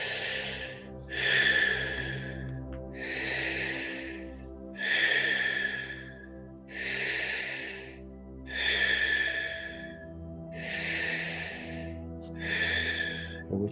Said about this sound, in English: As you continue to breathe in and out.